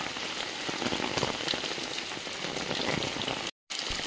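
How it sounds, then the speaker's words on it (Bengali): Heavy rain pours down in a dense, unbroken patter on nearby surfaces, with one brief dropout near the end. "এত জোর বৃষ্টি হচ্ছে"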